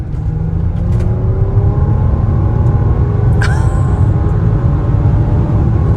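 Loud, continuous rumble from the W12 engine of a 2017 Bentley Bentayga under hard acceleration in sport mode, heard from inside the cabin as a steady roar that holds strong throughout, with no talk.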